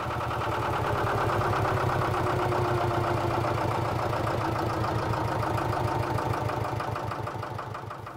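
A sailboat's inboard engine runs near full throttle during a sea trial off the Yucatán, a loud, steady, close mechanical drone with rapid rhythmic pulsing that slowly sags and softens toward the end.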